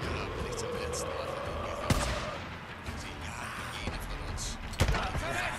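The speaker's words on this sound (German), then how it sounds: "Das war ein Kopfschuss." Gunshots in the video game Days Gone, two sharp isolated bangs spaced a few seconds apart over a dense, steady game background.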